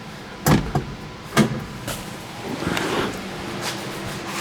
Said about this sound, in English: Doors shut easy. You don't have to slam them.